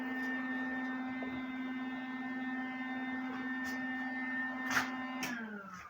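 Welder used for craft welding on metal, a steady electrical hum with a faint buzz running throughout, quiet and constant, with a small click and a pitch drop near the end as it is switched off.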